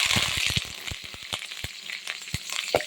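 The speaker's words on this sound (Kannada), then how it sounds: "ಇವಾಗ ಎಣ್ಣೆ ಹಾಕಿ ಸಾಸಿವೆ ಹಾಕಿದ್ದೀನಿ. ಎಣ್ಣೆ ಹಾಕಿ ಸಾಸಿವೆ ಹಾಕಿ ಆಮೇಲೆ ಈರುಳ್ಳಿ, ಕರಿಬೇವಿನ ಸೊಪ್ಪು." Mustard seeds, onion and curry leaves hit hot oil as tempering for okra sambar, giving a close crackle of irregular sharp pops over a soft sizzle.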